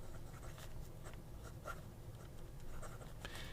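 Hongdian CA35 fountain pen with a soft, slightly springy fine nib scratching across paper, a faint, close, continuous scritch with small stroke bursts.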